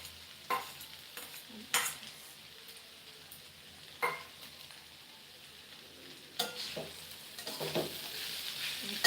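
Small mola fish being stirred in a pan with cauliflower stems and cabbage, giving a soft background sizzle broken by a few sharp scrapes of the spoon, heard up close.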